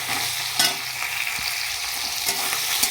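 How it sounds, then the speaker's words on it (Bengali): Fish head frying in hot oil with two bay leaves and four dried chillies: a dense continuous sizzle with occasional spatula stirs, close and steady, no voices. "দেখো মাছের মাথাটা সুন্দর করে ভেজে নিয়েছি, তারপরে দিয়ে দিলাম দুটো তেজপাতা, 4টে শুকনো লঙ্কা।"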